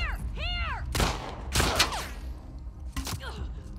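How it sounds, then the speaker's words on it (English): A few separate gunshots from The Last of Us Part II ring out, spaced about half a second to a second apart, loud against a quieter game backdrop with brief vocal sounds in between. "I hate that I'm shooting with this gun."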